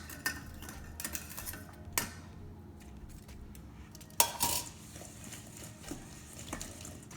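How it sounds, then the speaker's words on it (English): Vegetables such as cauliflower florets are tossed with spices for Indian-style roasting, making scattered clinks and knocks of a utensil against a bowl at an irregular pace, fairly close and with no talking. "just mix it back here and coat it properly so it absorbs right to the flowerets"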